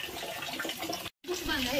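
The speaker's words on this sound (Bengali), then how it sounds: "খুব ন্যাচারাল ওয়েতে একটা গুহার ভেতর দিয়ে এই জলটা আসছে, এখান থেকে পড়ছে" Spring water falling from a cave outlet in Cherrapunji, a steady broadband rush heard close with a voice talking over it and a momentary break in the sound.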